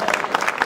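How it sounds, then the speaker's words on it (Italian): A short burst of applause from an audience at an evening event in Italy, dense and fairly loud, with no voices standing out. "accogliamolo con un applauso"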